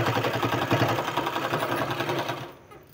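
A sewing machine runs a steady line of stitches attaching a sleeve to a garment, a close, rapid, even mechanical chatter that carries for most of the moment before cutting off near the end.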